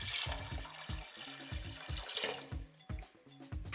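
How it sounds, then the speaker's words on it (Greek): Water runs from a tap into a pot of soaked chickpeas, a soft, close splashing and gurgling stream with rhythmic thumps and bubbling pulses. "τα προσθέτω στην κατσαρόλα, ρίχνω και νερό από επάνω"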